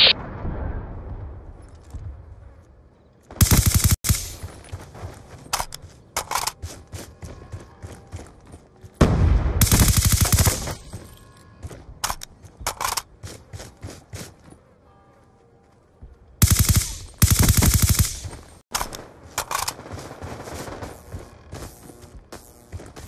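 Gunfire and blasts from the Call of Duty Black Ops 2 video game, with loud broadband bursts and rapid clustered shots that recur in separate volleys, separated by quieter stretches of game sounds.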